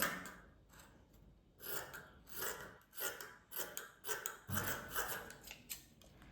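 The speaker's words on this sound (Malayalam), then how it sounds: "ഫസ്റ്റ് ഞാനിതാ ഇവിടെ കട്ട് ചെയ്ത് കൊടുക്കുന്നുണ്ട്" Scissors cut through fabric for a kaftan, making a quiet series of crisp snipping and slicing strokes in irregular bursts, close up, after a brief softer lead-in.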